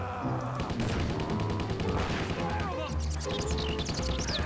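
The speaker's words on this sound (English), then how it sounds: "this is a very precise high damage rifle" A precise, high-damage rifle fires in the zombie video game Stubbs the Zombie, in dense, rapid reports that blend into a continuous clatter of gunfire, while someone talks over it.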